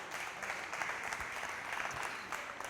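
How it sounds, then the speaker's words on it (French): At a prize-giving ceremony, the crowd claps for an honored staff member, a steady, fairly faint patter of many hands heard from some distance, without speech over it. "Est-ce qu'on peut applaudir bien fort, M. Singsala, s'il vous plaît?"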